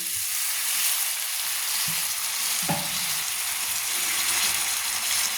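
Masala for a bottle gourd and prawn curry frying in a pan after half a bowl of water has gone in, a dense, loud, even hiss and bubbling with a couple of brief stirring knocks, close and unbroken.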